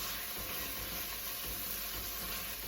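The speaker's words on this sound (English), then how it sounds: "I'm going to stir it around to deglaze the bottom" Steady soft sizzle and hiss from a pot of pinto bean soup base being stirred to deglaze the bottom, the faint scrape of stirring barely standing out, continuous and fairly quiet with no voices.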